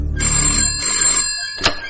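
A telephone bell rings in a tense horror tale, a clear close ring that starts strong with a low hum beneath, then fades, with a short sharp burst near the end.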